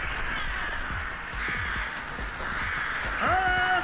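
Crows cawing in the video game Discovery: Liberated, a few rough calls repeating at a moderate distance over steady ambient game noise, with a brighter, nearer harsh cry near the end.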